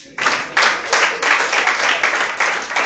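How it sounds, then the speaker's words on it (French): Church congregation applauding, loud rhythmic clapping in even bursts that starts abruptly and keeps a steady beat, with a few voices mixed in. "Acclamez pour moi, là."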